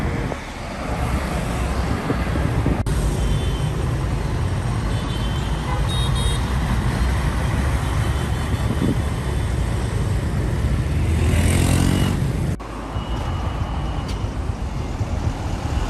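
A fuel tanker truck rumbles steadily past amid broad traffic noise, loud and close, with a dense continuous roar that swells near the middle before cutting off abruptly; no one speaks.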